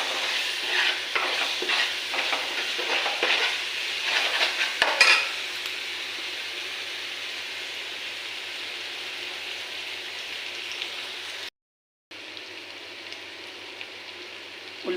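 Onion paste with ginger garlic paste frying in a pan, a steady sizzle with scraping stir strokes early on, then a quieter continuous sizzle with a brief gap near the end.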